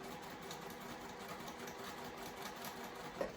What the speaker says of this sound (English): I'm just going to go back on my line, back stitch, and then follow the line